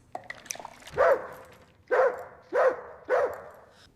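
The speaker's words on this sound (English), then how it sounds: "No more barking, Rex." A dog gives four sharp barks at an uneven pace, close by, after some faint rustling and clicking.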